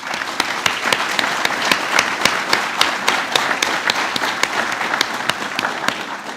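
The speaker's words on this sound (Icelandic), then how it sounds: "endilega gefið þeim gott klapp." An audience at a graduation ceremony of the Agricultural University of Iceland claps in sustained, dense applause, loud and even throughout, with no voices over it.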